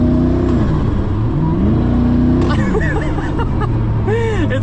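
Koenigsegg Regera accelerating from inside the cabin, its engine note rising and falling in smooth sweeps, then climbing hard and loud toward the end with faint background chatter.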